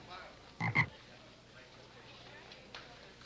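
A toad gives two quick, close croaks in a row, followed by a long quiet stretch with a faint low hum and one soft distant click near the end.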